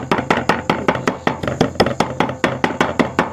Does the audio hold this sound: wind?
no